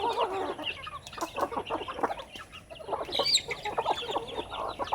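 Chickens clucking and squawking close by in a yard, busy overlapping chatter from several birds with occasional sharper calls, fairly loud and continuous.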